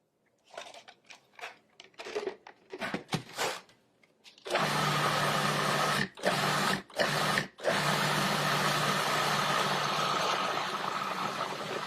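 A food processor whirs loudly through a creamy mixture with cilantro added, starting after a stretch of clattering and handling, then running in steady bursts broken by several short pauses before continuing; no one speaks.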